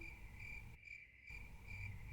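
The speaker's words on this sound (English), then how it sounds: "Crickets." Crickets chirp in a steady, high, pulsing trill, quiet and continuous apart from a short gap in the middle.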